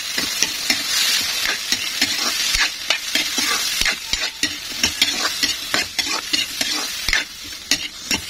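Carrots sizzle steadily in a pan while a utensil stirs them in quick, repeated scraping strokes, close and fairly loud, with no talking.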